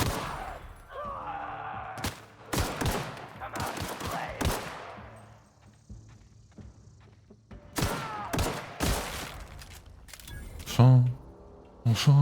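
Gunfire in the role-playing shooter The Outer Worlds, Spacer's Choice Edition: repeated sharp bursts of shots come in clusters, some close together and some spaced apart, with loud thuds near the end and French speech in between.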